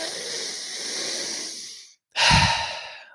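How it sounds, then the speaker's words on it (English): Long, audible breaths during a guided breathwork session, a sustained inhale fading out, a brief pause, then a forceful near exhale, alone without talk. "Keep up that breathing pace."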